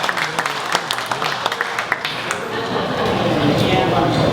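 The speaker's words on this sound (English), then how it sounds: "a quick round of applause for Patty Shea Peters and Manny" Reunion crowd at a 50th high school class gathering applauds, scattered claps in the first half merging into a broader wash of clapping and crowd noise, with voices mixed in.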